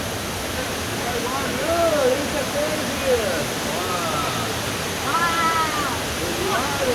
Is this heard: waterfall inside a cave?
yes